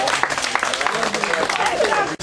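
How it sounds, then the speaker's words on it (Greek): An audience at a summer camp breaks into applause, a dense, steady wash of clapping hands that runs close and loud for a couple of seconds before cutting off abruptly, with voices mixed in. "Χειροκροτήστε τους!"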